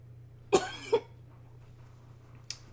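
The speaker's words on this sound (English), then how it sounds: "I do have something of a perpetual cough" Two quick, close coughs from one person, the second slightly softer, followed by a faint short sound, against a low steady hum.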